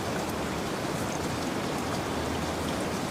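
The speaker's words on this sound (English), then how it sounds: "listening to the rain" Steady rain falls without a break, a dense continuous hiss of drops, fairly close and even in loudness throughout.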